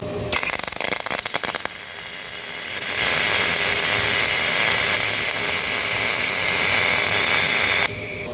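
A cheap little MIG welder laying a bead at 26 volts with full wire speed, a steady loud crackling hiss sustained for several seconds after a few brief starts, with no voices over it.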